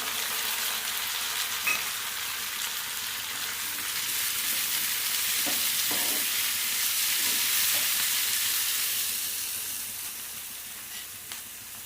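Tomato pieces fry in hot oil in a pan for an egg curry, making a continuous close hiss of sizzling with a few faint utensil taps. No one speaks.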